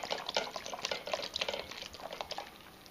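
Rich Guinness beer is poured into a cooking pot for corned beef, a steady close splashing and gurgling pour of liquid with no talking.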